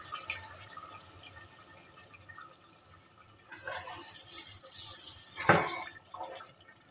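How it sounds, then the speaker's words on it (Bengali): Water is poured into a pressure cooker of beef curry in a few short, quiet splashing bursts, the loudest near the end, against a soft background hiss. "এখন আমি ঝোলের জন্য পানি দিয়ে দিচ্ছি"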